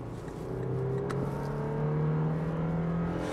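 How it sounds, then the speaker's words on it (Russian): A 2019 Toyota Land Cruiser Prado SUV engine hums and revs steadily as the vehicle accelerates, its pitch climbing gradually inside the cabin, with no talking. "Рев мотора прям отчетливо слышно"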